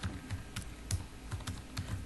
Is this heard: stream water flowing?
no